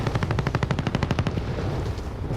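Rapid automatic fire from the Oden assault rifle in a multiplayer shooter, a fast steady burst of loud, evenly spaced shots for about a second and a half that then cuts off into a trailing echo.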